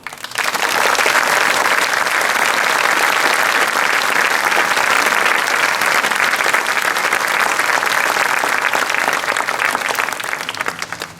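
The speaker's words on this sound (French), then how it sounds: "Merci de les encourager très fort par vos applaudissements" Audience at a 2019 French historical theatre show applauding the performers, dense and loud clapping from a large crowd that holds steady for about eleven seconds before tapering.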